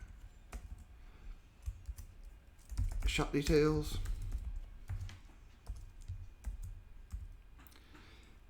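Computer keys clatter in scattered bursts of clicks, close and fairly quiet, while a person speaks briefly partway through.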